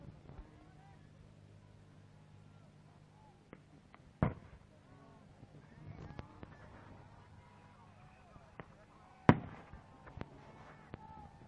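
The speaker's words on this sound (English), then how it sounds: "I think those sounds are concussion grenades." Concussion grenades go off at a night protest front line at Standing Rock, two sharp distant bangs several seconds apart over a faint background hum and murmuring voices.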